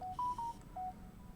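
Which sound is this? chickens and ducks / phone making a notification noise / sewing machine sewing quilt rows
phone making a notification noise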